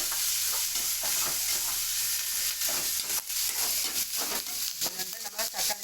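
Garlic cloves sauteing in a pan with a loud, close, hissing sizzle, and stirring strokes growing busier and more uneven toward the end.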